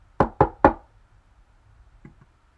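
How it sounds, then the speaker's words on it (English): Three sharp knocks on wood ring out in quick succession, close and loud, followed by a fainter soft tap or two in otherwise quiet surroundings. "But honestly, knock on wood."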